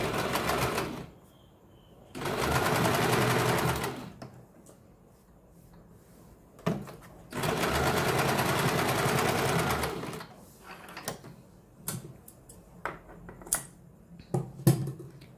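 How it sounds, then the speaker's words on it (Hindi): A sewing machine runs straight stitching on blouse fabric for a double katori blouse, with two steady whirring bursts of about two and three seconds, separated by quiet handling clicks and light taps. "अब यहाँ पे हमें इसको सीधी सिलाई लगानी है।"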